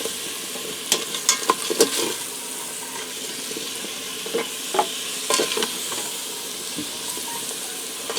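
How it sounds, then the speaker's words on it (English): Garlic rosemary potatoes being stirred in an Instant Pot, a close sizzle of browning under irregular scrapes and clatters of a spoon, with bursts of stirring that come and go over the steady frying hiss. "I'm going to go ahead and give that a stir"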